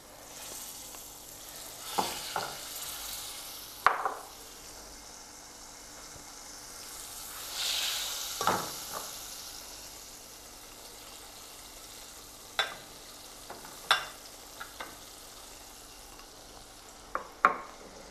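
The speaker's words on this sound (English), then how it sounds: "Now we're going to wait a little bit till our butter melts." Butter melting over moderate heat in a pan while making a digestive dessert treat, a soft steady sizzle with scattered clicks and a few sharper utensil taps, fairly quiet throughout.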